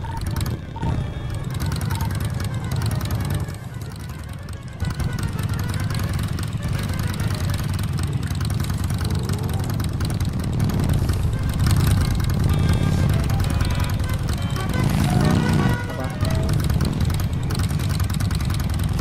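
Motorcycle engines idle in a video game roleplay, a steady low rumble throughout, with voices speaking at times over the drone.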